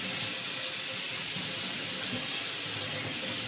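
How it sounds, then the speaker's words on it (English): Hot tap water runs steadily over a mesh pocket maker for a lacrosse stick, a constant close hissing splash with no break and no voices. "so let's wash it off. I'm using hot water here"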